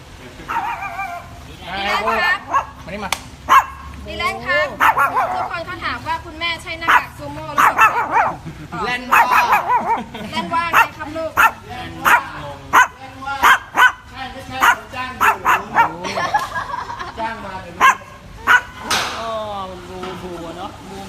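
A dog barks repeatedly in a home kitchen, with sharp bow-wow barks and yips coming in irregular bursts close by. Someone talks over the barking throughout.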